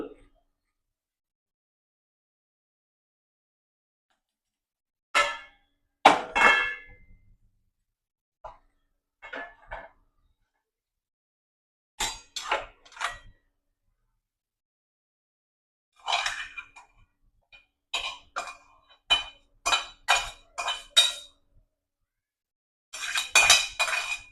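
A metal spoon scrapes and clinks against a pan as freshly cooked paneer bhurji is moved into a large bowl, in scattered bursts of sharp scraping separated by silent pauses, with no speech.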